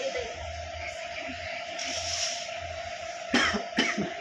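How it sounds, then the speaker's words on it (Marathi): Two sharp coughs near the end, close to the mic, following a few seconds of low background hum. "खोकला लागलाय खोकला पावसात भिजून भिजून"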